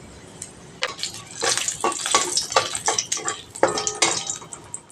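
Whole garam masala and black cumin frying in mustard oil in a pan, with a spoon clinking and scraping as it stirs over a soft sizzle, close and lively.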